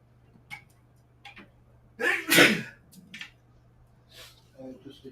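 A single sharp sneeze bursts out loudly at close range, with faint ticking and scattered quiet sounds around it.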